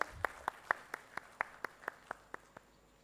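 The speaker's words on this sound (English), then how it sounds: "Let's have a big round of applause, ladies and gentlemen." Applause at a textile launch event in Bhubaneswar comes as faint, evenly spaced claps, about four a second, sharp and distinct rather than a blended crowd roar.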